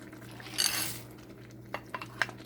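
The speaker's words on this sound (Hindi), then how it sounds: "एक कप मटर और आलू भी डाल के इसको इसी के पानी के अंदर हम पकने के लिए रख देंगे" Peas and potato pieces are tipped into a pot of half-cooked minced meat for aloo keema, giving a brief clattering rush followed by a few light metallic clinks of a spoon against the pan.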